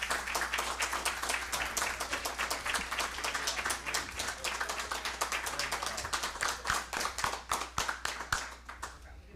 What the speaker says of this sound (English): big round of applause for our state champions